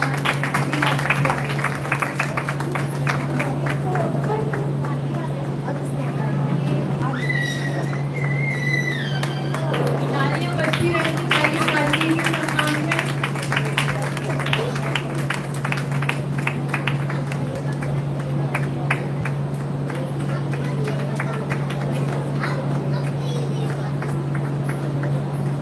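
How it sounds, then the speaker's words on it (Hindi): A seminar audience in Nagpur applauds to honor guests, with sustained, dense clapping over a steady background hum and some voices mixed in. "हम सब तालियों के द्वारा"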